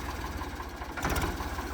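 An Indofarm tractor engine runs with a steady low rumble and rhythmic pulsing, close and loud, swelling briefly in the middle.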